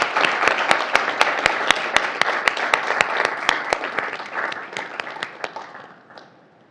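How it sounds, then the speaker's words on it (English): A room of listeners applauds after a congressman's talk, dense clapping with a few sharp nearby claps standing out, then tapering off and fading over the last second. "Let's give him a round of applause."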